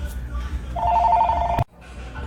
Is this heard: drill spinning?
no